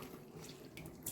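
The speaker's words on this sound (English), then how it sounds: "I'm going to let this water out" Water drains from a kitchen sink after collard greens are washed in it, a faint, steady trickling gurgle with a few soft splashy spurts near the end, no voices.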